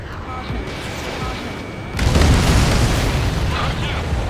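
A loud explosion as an enemy transport aircraft is destroyed in the combat flight game Ace Combat 7, a broadband boom that hits midway and sustains, over steady jet engine roar.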